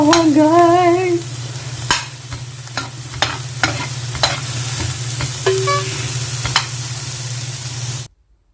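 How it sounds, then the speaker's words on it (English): Onions sweating in a hot pan, giving a steady sizzle with sharp spatula scrapes and taps every second or so. A warbling tone plays briefly at the start, and the sound cuts off abruptly near the end. "Let's make the onions sweat"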